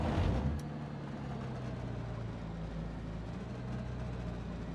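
The engine of an Icon A5 amphibious light aircraft in Microsoft Flight Simulator drones steadily with a low, car-like hum, a brief louder swell at the start, then an even, moderately quiet tone with no voices.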